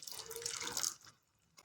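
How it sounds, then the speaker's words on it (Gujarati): Water is poured from a small bowl into a pan of dried fenugreek curry, giving a brief splashing, gurgling pour that stops after about a second, fairly soft and close. "હું અહીંયા થોડું અડધી વાટકી જેટલું થોડું બીજું પાણી ઉમેરી દઈશ"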